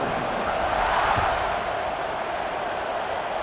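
Stadium crowd in EA Sports College Football 26 roars steadily at kickoff, a dense broad wash of cheering that swells slightly around the first second and then holds level throughout.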